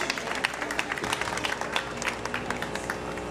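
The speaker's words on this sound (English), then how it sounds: "Let's give her a welcome round of applause." Outdoor crowd at a NYC public housing family day claps to welcome a community council member, scattered, uneven hand claps with distinct individual slaps rather than a dense roar, fairly close.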